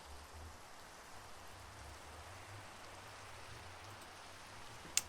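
Steady in-game rain from a block-building survival server, a soft even hiss of falling water that holds constant and alone, with a low hum underneath and a brief click near the end.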